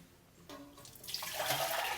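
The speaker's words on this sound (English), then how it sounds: "Pour off the water." Water is poured off cooked noodles into a sink. The soft start rises into a loud, rushing splash that continues to the end.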